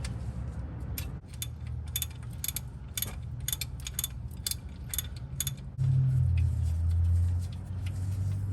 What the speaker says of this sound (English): I'm using a breaker bar because I couldn't get any good leverage with my ratchet.